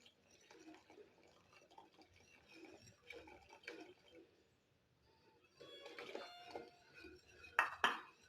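Custard powder mixture is slowly stirred into milk in a pot over a low flame, with soft scraping and gentle liquid sounds building to a couple of sharper clinks near the end.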